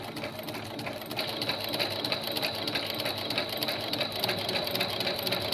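A sewing machine stitches jersey knit fabric with a knit foot or walking foot, running as a fast, even mechanical chatter that picks up after a second and keeps going without talk.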